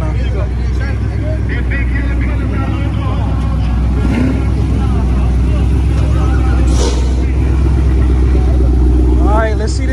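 A modded Dodge Hellcat nicknamed Battlecat at a street race, its engine a loud, rough, steady rumble heard up close, with voices talking over it throughout.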